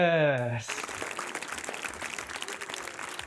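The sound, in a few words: people applauding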